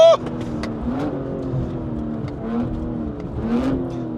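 A Stage 2 tuned BMW M3 G80 accelerates hard, its engine note rising and swelling over a few seconds as it pulls, steady and close, with no talking.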